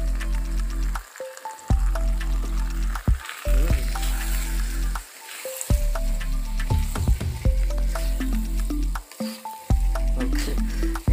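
Crispy fried squid being stirred in Padang sauce in a pan: loud close sizzling broken by pauses, with squishy scraping stir strokes and clinks and no talk.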